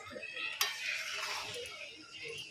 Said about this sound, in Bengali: এই খুন্তি দিয়ে দিয়ে বেবে একদম এই যে চলছে এখন চিকেন কষানো